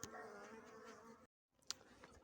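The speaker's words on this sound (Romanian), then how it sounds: "Cam toate sunt pline cu albine." Honey bees buzzing on hive frames in February, a faint continuous hum that drops out briefly and returns with a sharp bee passing close to the microphone.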